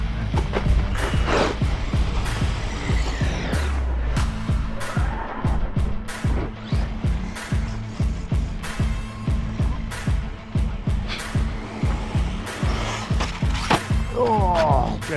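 An HPI Savage XS RC car on 2S power drives off-road, its motor whining and revving near and loud amid constant clattering impacts and scrabbling tires, with a voice heard briefly.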